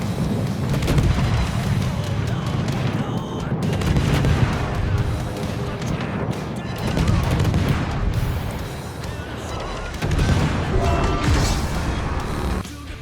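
Heavy naval gunfire thunders around a ship in World of Warships, a continuous barrage of booming salvos and impacts layered with mechanical clatter, loud and sustained.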